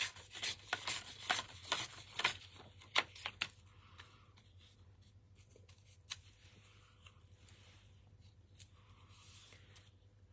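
Yellow paper torn by hand for a mixed media scrapbooking page, with several close, rough ripping and rustling bursts early on, followed by quieter faint handling sounds.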